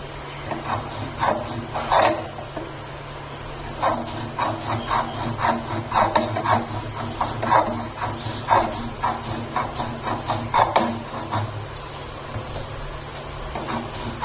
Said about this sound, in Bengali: এইভাবে বেটে নেব পোস্ত আর কাঁচা লঙ্কাগুলো।